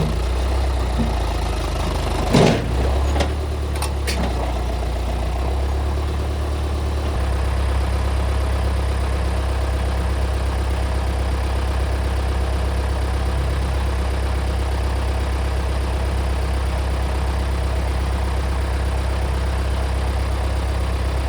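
An old vintage tractor engine runs steadily at a low idle while backing up, a constant deep rumble throughout with a couple of brief knocks near the start, close and loud with no talk.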